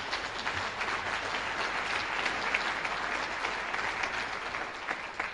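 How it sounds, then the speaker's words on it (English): A school hall of fame ceremony audience applauding steadily for several seconds, dense even clapping from a sizable crowd heard from a distance. "Let's give them all a round of applause."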